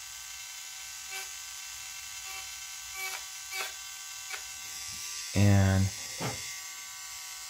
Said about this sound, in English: I'm just slowly grinding these brown areas out